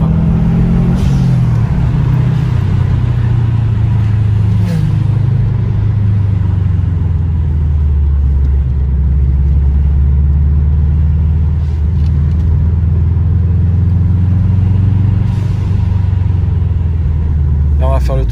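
A car rumbles loudly and continuously while driving, its deep engine drone swelling now and then as it revs, with voices talking over it inside the cabin.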